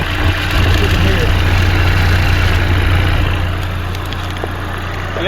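Chevy Equinox engine idling with heavy blow-by, a loud steady low drone with a rumbling pulse that drops slightly toward the end.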